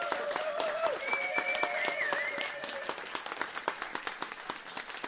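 Audience applause for a Horňácko cimbalom band at a live music show, a dense patter of many hands clapping under faint speech, thinning into scattered claps toward the end.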